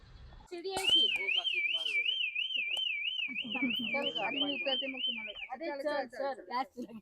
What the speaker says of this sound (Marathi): आता काका शिट्टी वाजवतील बघू मगर येतात का